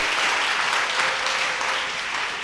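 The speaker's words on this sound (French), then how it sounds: "Est-ce qu'on peut applaudir le Seigneur?" A church congregation applauds during a combined Sunday worship service, a dense, steady wash of many hands clapping together that holds evenly for a few seconds before tapering slightly.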